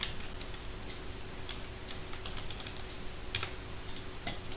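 Quiet, steady clicking of a computer keyboard as HTML code is typed, with irregular keystrokes and brief pauses, close and alone with no talking.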